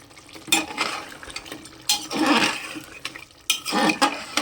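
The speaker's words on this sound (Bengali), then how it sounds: "মাংসটা এখন ভালো করে কষছি আমি" Chicken meat stir-fried in a pan with plenty of released liquid gives repeated bursts of wet sizzling and utensil scraping, three or four strong stirring strokes separated by quieter simmering, with no talking.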